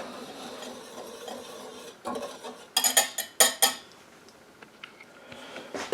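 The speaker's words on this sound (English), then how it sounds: "I'll combine the flour and the salt and the baking soda." Flour, salt and baking soda being stirred together in a bowl for sourdough banana bread: quiet scraping, then a run of sharp clinks and knocks of a utensil against the bowl, close and without talk.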